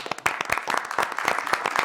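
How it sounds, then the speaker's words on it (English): Applause from the audience at a city council meeting, brisk, moderately sized clapping with distinct individual claps audible throughout the short burst. "let's clap for both of those"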